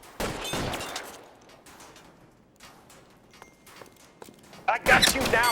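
Gunfire in the LA Noire video game: several sharp shots in quick bursts, loudest at the start and end, mixed with game dialogue and background sounds.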